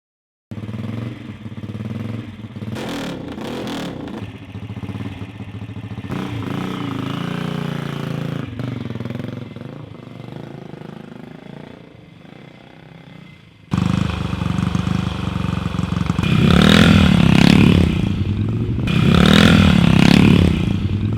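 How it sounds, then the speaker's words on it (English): A classic 1950s Moto Guzzi V8 eight-cylinder racing motorcycle engine runs, first idling with uneven bursts, then after a sharp jump growing louder with rough revving swells. "I call it the ultimate classic, the V8 Motor Guzzi 8-cylinder"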